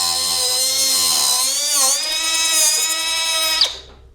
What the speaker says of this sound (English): or I like to use my Milwaukee circle saw